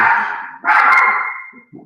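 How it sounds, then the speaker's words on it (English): A dog gives two loud, close barks, the second longer and drawn out, followed by a faint yip. "Sorry for the barking."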